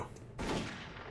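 Gunfire in the video game Doom 3, a sudden loud burst of shots that breaks into a broad roar and then sustains for about a second, with no talking.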